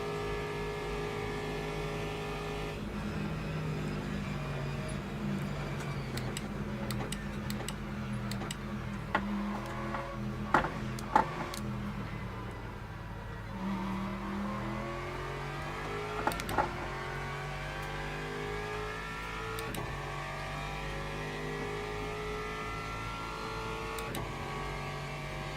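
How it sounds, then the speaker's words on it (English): A hypercar engine in Le Mans Ultimate rises steadily in pitch as it closes in from behind, layered over the droning engine of the player's own car, with a few sharp ticks and clicks. "That's a hypercar coming up behind."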